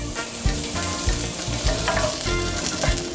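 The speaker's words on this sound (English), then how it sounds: "Now it's time to cook the guanciale. Guanciale in. Make sure your pan is super hot." Guanciale fries in a super hot, oil-free pan, a loud, dense, close-up sizzle with crackles and stirring scrapes running steadily throughout.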